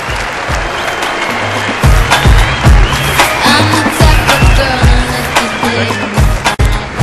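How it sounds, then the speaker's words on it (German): A large crowd in the SAP Arena claps loudly for a sepak takraw team after a demonstration, the applause filling the hall amid heavy rhythmic thumps and booming background noise, with no clear talking. "Ich hätte mal gerne einen ganz großen SAP Arena Applaus für die Jungs"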